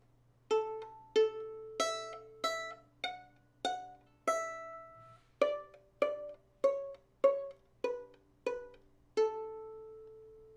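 A violin plays a partial Twinkle Twinkle Little Star, about a dozen separate plucked-sounding notes at an even pace with short pauses, quiet and close, with a faint hum underneath.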